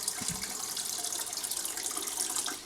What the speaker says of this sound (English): The toilet is in a constant flush cycle.